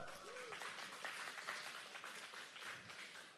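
Attendees at a WalletCon 2024 conference applaud themselves, a quiet, distant round of clapping from a crowd, steady over a few seconds.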